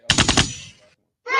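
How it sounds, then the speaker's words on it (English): A gunshot sound effect, a rapid burst of several loud, close shots fading into a short tail. Silence follows before other sound starts. "Oh, gunshot."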